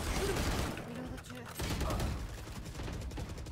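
Rapid video game gunfire bursts in a multiplayer match, loud and clustered, with a short lull midway, while players talk over it.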